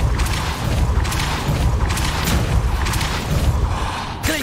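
A Depulso force spell being cast in Hogwarts Legacy on PC, a dense roaring whoosh with repeated surging pulses, ending in a short rising tonal sweep.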